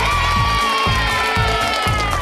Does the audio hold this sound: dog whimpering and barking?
no